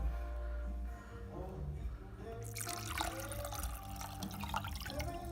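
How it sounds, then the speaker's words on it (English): Apple juice from a soup can poured into a chicken casserole dish, a steady liquid splash and trickle starting partway through and continuing to the end, close and fairly loud. "Go ahead and dump the juice in there, Justin."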